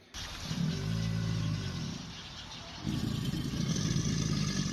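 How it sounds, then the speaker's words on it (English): An alligator's mating call: a deep, rumbling low drone with a steady throb, rising in intensity partway through and continuing loudly to the end, with no voices. "when an alligator is looking for a mate, they make this sort of deep, sort of rumbly kind of noise"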